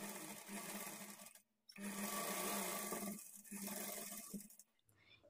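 An electric sewing machine stitches the body panel of a blouse with a quarter-inch seam margin, running in close, humming bursts broken by short pauses between runs.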